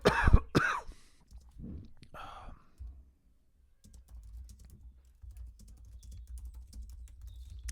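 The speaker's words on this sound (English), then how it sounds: "I'm going to cough." A person coughs a few times at the start, sharp broadband bursts close to the mic, followed by quieter clicks and faint background shuffling.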